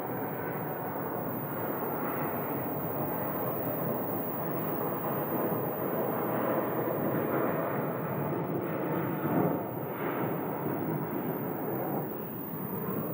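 Delta airliner departing Phoenix airport, a loud, sustained broadband jet roar heard from a distance and holding steady throughout.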